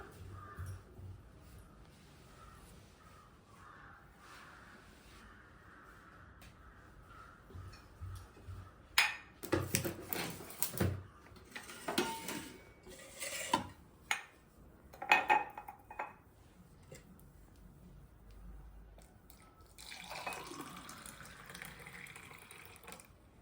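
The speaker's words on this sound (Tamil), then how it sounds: "இதை நம்ம வந்து அப்படியே கப்பில் ஊற்ற வேண்டியது தான்" Mint juice is poured into a cup amid kitchen clatter. Dishes and cutlery clink, and a trickling, splashing pour comes through clearly in the middle, followed by softer rustles and a faint liquid swirl near the end.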